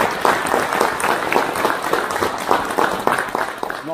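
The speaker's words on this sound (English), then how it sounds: "a round of applause for our reenactment" A crowd gives a round of applause after a wartime reenactment, with many hands clapping close and moderately loud in a steady, unbroken burst.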